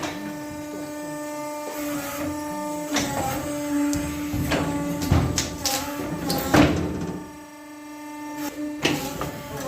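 A Carpathian SMFA 100 sawmill machine runs with a steady mechanical hum and tonal whine, broken by intermittent thumps and clatters from the moving parts.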